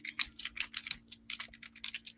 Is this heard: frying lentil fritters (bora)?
no